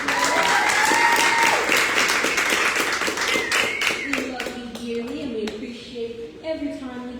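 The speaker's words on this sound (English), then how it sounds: "let's also have a round of applause for the house band" An audience applauds the house band at a live open-mic style event, brisk dense clapping that swells then thins out, with a voice speaking over the tail end and a few whoops.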